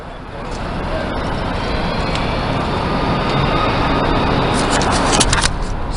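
Heavy road traffic heard from a bridge, a loud continuous roar of passing cars, buses and trucks that fills the whole stretch at close range, with a faint jingle and light clicks near the end.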